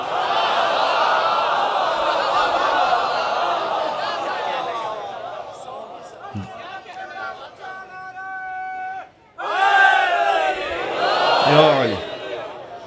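A crowd at a religious gathering in Ratta Bajwa, Gujranwala raises loud, sustained chants in unison, with a brief drop in the middle before the massed voices surge back even louder.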